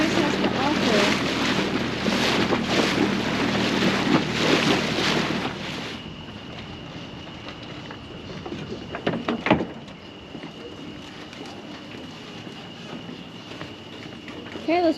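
A loaner dinghy runs across the water with a strong rushing hiss of wind and spray for several seconds, then the motion drops away to a quieter hum with a few knocks and a brief splash.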